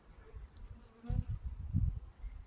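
Honeybees in an opened hive during a check after a queen change, a low droning buzz close to the comb that swells in short bursts, with faint wing hum in the background.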